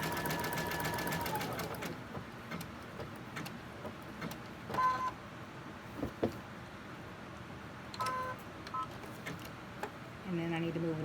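A sewing machine stitches a pin tucked pinwheel quilt block with a fast mechanical whir in short bursts that stop and start, close by, while someone talks over the pauses.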